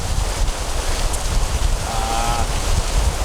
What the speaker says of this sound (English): the rain is coming down pretty seriously now, and the wind is just blowing from the coast into our dinner table